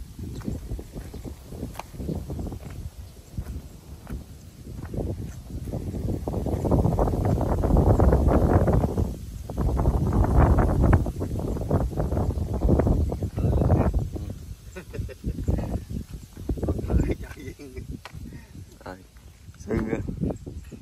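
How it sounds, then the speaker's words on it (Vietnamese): Cool wind blows outdoors beside rising water, making continuous broadband rushing and gusty microphone buffeting that swells in the middle, under a voice talking. "Gió mát quá trời luôn."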